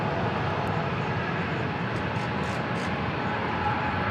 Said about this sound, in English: American 2720 going to Charlotte is next to take off. And it's going to use every single inch of the runway here.